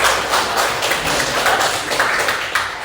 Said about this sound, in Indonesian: kita kasih aplaus kepada temannya ya